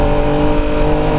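A 2017 Yamaha FJ-09 motorcycle engine revs loud and close, a buzzing harmonic drone sustained for a moment with no talking.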